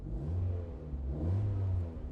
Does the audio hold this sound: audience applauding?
no